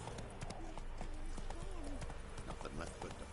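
Hooves of the horse Roach clip-clop in a steady walking rhythm in The Witcher 3, close and clear while someone talks over them.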